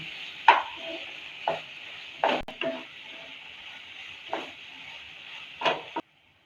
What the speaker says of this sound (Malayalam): ഇതും ഒന്ന് ഫ്രൈ ആയി വരണം